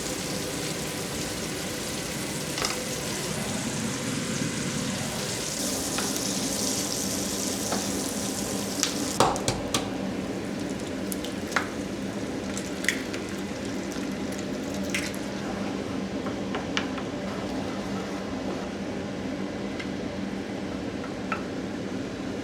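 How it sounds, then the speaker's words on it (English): Sujuk slices frying in a pan and stirred with a wooden spatula, a steady close sizzle with occasional light scraping and clicking of the spatula, no talking. "I always like to cut my sujuk like this because it's just easier to cook. You can just stir with a wooden spatula"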